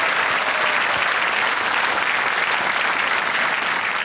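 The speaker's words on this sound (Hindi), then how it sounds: "तालियों के साथ एक बार फिर इनका स्वागत।" A studio audience at a televised quiz show with Big B gives loud, dense, continuous applause that stays at an even level for about four seconds, with no talk.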